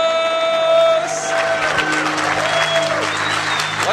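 Loud, dense applause from an audience welcoming motivational speaker Keith Kalfas onstage, continuous clapping with some cheering, following a fading musical tone at the start.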